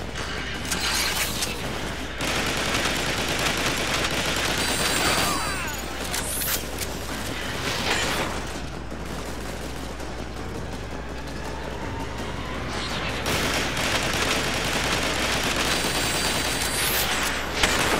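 Dense, continuous gunfire and mechanical weapon blasts from the video game Transformers: War for Cybertron, loud and sustained with overlapping bursts throughout.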